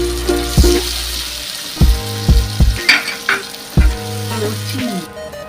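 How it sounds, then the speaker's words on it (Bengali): A ginger, garlic, chili and tomato paste sizzles in a pan with fried onions, a steady hiss broken by several sharp clattering knocks of a spoon against the pan, with no one speaking. "এবার এই পেস্টটা দিয়ে দিলাম।"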